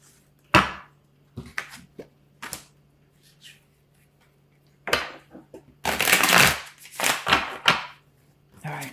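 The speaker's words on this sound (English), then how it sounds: "let's pull some more cards" Tarot cards being shuffled close by, with scattered soft taps and flicks early on, then a loud, dense riffling burst followed by several quicker shuffles.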